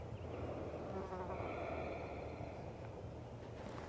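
Bee buzzing past outdoors at a winery during a seated yoga class, a faint continuous insect drone lasting a few seconds with no talk over it.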